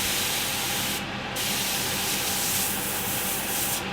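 An airbrush spraying MRP paint onto a scale model after its air pressure is turned down, giving a loud, steady hiss that cuts out briefly twice.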